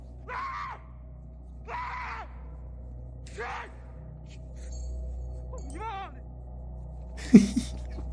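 A person lets out several drawn-out screams and wails, spaced a second or two apart, followed by a sharp louder cry near the end.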